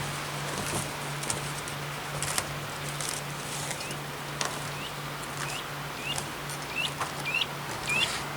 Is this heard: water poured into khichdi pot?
no